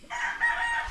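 A rooster crows once, loud and close, a single drawn-out, strained call among pet chickens.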